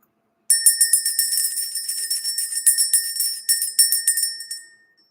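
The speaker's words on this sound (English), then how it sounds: "Let's go ahead and ring the bell." Small bell rung repeatedly to clear energy, rapid bright jingling strikes that ring on for several seconds, close and loud, then stop abruptly into silence.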